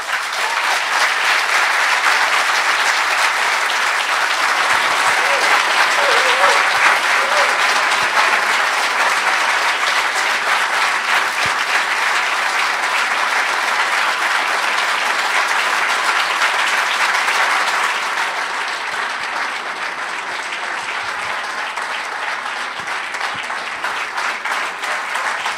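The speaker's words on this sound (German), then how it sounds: "Dein Applaus." Audience applause follows a talk on psycholytic therapy at a science conference, sustained dense clapping that stays loud for most of its length before softening toward the end.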